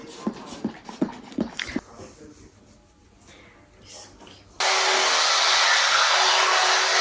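Dogs at home greet their returning owner with a few sharp barks and excited whimpers early on, then quieter shuffling while a person talks, followed by a steady loud rushing noise.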